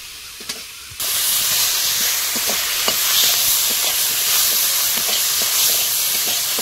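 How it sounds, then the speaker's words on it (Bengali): Spices and potatoes fry in a hot pan, a sudden loud burst of hissing sizzle that starts after a second of quiet and continues steadily with faint stirring ticks. "ভালো করে একটু সব কিছু ভেজে নিলাম। মশলা রেডি, এবারে আলুটা দেবো।"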